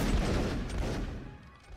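A musket volley fired by a line of reenactors at a public line battle, a single burst of overlapping shots that booms loud and close and then fades over about a second, with no voices.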